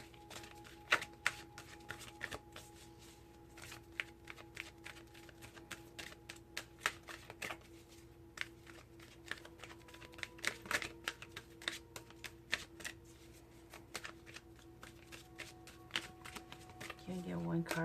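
Oracle cards shuffled continuously during a Taurus tarot-style reading, a steady run of soft riffling, flicking clicks repeating throughout, close and moderately quiet, with low background hum.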